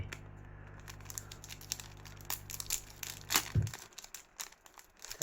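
An old-style trading card pack is torn open and crinkled close by, a steady crackling of foil and paper with sharper rips near the middle, then scattered crunches as it fades.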